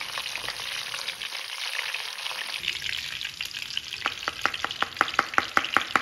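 Whole bunches of coriander and mint fry in hot oil with a continuous close sizzle and crackle, joined near the end by a regular series of sharp taps as the pan is stirred.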